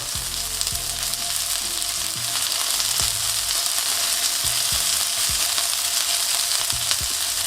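A burger sizzles and fries in a pan while being basted with butter: a steady, bright crackling hiss with intermittent low knocks and scraping from the spoon and pan, no talking.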